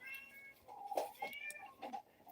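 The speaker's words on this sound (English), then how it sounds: "I always have my kitty going meow." A pet cat meows several times in a row, drawn-out cries close by and fairly loud, with short gaps between them.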